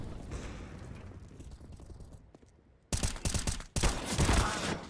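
Gunfire shot through a wall in Counter-Strike, heard as loud, dense bursts of shots after a quieter stretch of ambient game sound, with two sharp volleys in the second half.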